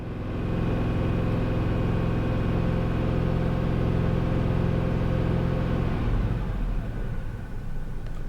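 A steady, loud, close engine drone from an Isuzu Trooper held at 2500 RPM, constant for several seconds before easing slightly, no talk over it.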